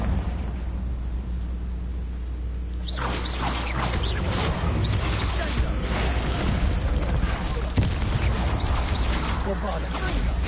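Confringo fire spell blast in Hogwarts Legacy, a sudden loud burst of fiery crackle and rumble breaking in after a low droning stretch, with a spoken voice running through the game audio.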